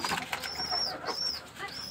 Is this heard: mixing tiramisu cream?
no